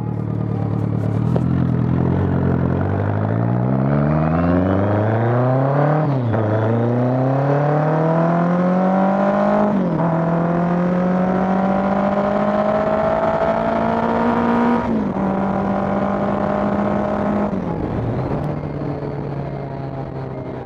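BMW K100 cafe racer motorcycle engine running close by, revving up in repeated rising pulls with brief drops between, then settling toward a steady idle near the end.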